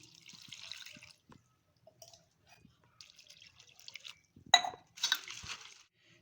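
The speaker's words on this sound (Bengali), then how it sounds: "জল দিয়ে এবার ধুয়ে নেব।" Water is poured over flattened rice (chira) in a bowl to rinse it, heard as faint splashes and trickles with a few soft drips and clinks against the bowl, in otherwise quiet surroundings.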